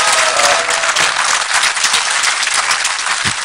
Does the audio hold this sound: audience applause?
yes